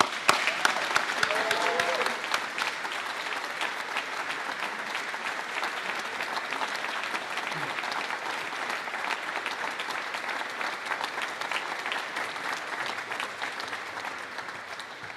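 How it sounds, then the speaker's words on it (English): Sustained applause from an audience at a stock listing ceremony, a dense steady clatter of many hands clapping that fills the whole stretch at an even level. "Let us hear a little applause for all of you."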